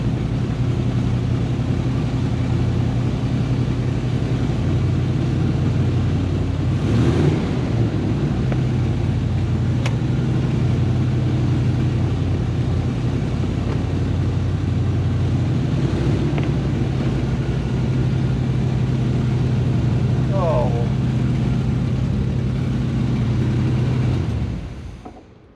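A 1975 K10 pickup truck's engine, started after sitting 18 years with a blown gasket and some smoke, idles close and loud in a steady low rumble, then stops abruptly at the end.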